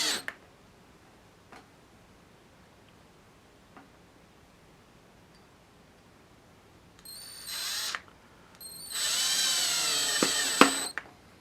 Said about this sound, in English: the last step for today was to secure the jack into the lower bout of the guitar body, and that's done with a couple of wood screws